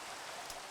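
Steady soft hiss of rain falling in Minecraft, a faint continuous wash of drops with no other sounds or voices.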